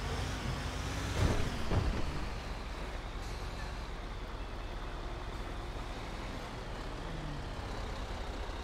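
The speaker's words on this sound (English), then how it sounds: "there goes one of our Kenworths" Kenworth truck in GTA 5 rumbling past close by, a steady loud engine drone with a short hiss like an air brake near the start, no talking.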